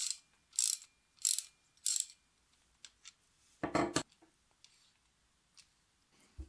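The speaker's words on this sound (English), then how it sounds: "when you go to ratchet compared to a regular ratchet, it's slightly easier to turn" A gearless ratchet wrench being turned gives soft, quiet mechanical clicks and short scraping bursts in irregular groups, close by and faint, with a louder rasping burst partway through.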